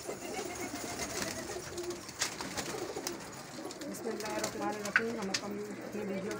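Pigeons cooing softly and repeatedly in a low, throaty rhythm at their coop, with other bird calls and someone speaking at times in the background.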